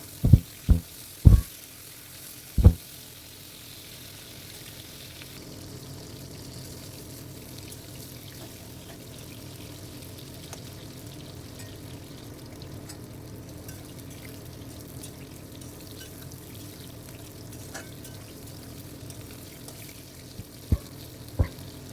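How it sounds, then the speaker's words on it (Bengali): Pieces of pointed gourd frying in hot oil produce a steady low sizzle and bubbling throughout, opened by a few loud knocks of a utensil against the pan, with faint stirring. "সেই রকম পটলগুলোকে ভালো করে তেলে ভেজে নিতে হবে।"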